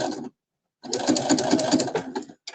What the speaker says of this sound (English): I just can't believe this is really me sewing here